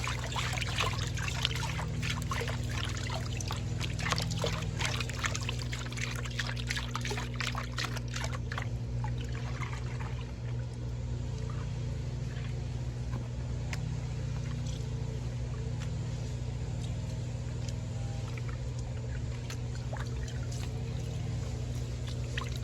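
Water swirling and trickling in a gold pan full of black sand during panning outdoors, with soft splashes and pours over a steady low mechanical hum, no one speaking.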